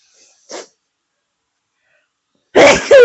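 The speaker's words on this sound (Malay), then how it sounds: "Bersin." A single loud, close sneeze bursts out near the end of a quiet kitchen moment while chicken is cooked in coconut milk, preceded by a brief faint breathy sound.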